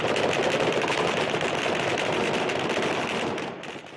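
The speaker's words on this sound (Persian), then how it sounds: "صدای گلوله‌های ماموران امنیتی در بغداد تنین" Sustained gunfire from security forces in Baghdad crackles as dense, continuous rapid bursts, loud and unbroken for several seconds before easing slightly at the end.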